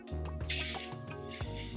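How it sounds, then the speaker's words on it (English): A steady hiss of hairspray sprays close by for a couple of seconds. "I do spray it like on my hair, on my hairline."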